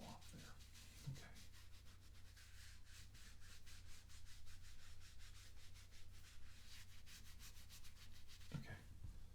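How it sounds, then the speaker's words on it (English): Hands rubbing a shoulder during an ASMR massage after alcohol is applied, a steady close-up brushing and rubbing texture that runs continuously, with a low background hum and no talking. "I'm going to rub your shoulder."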